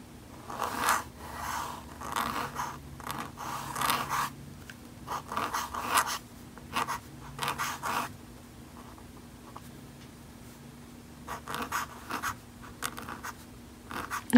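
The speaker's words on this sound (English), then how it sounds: "I'm gonna try and write bigger." A Desiderata BAMF flex nib fountain pen writes large letters on paper, producing close, faint scratchy strokes in irregular bursts with short pauses between them and no talking.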